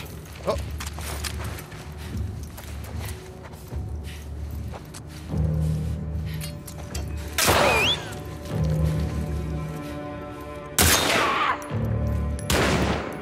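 Gunfire in The Last of Us Part II, with repeated shots and bursts cracking out over a steady game-ambience bed, two especially sharp loud blasts standing out, and someone talking in between.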